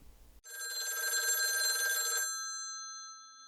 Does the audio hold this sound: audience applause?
no